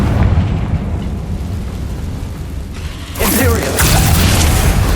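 A Confringo blasting curse goes off in a Harry Potter video game: a loud rushing whoosh swells into a burst and crackling blast about three seconds in, with a rumbling tail.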